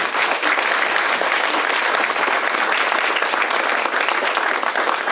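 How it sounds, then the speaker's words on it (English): Audience at a mental health forum applauds steadily, dense sustained clapping throughout with no speech over it. "I think another round of applause for Onika."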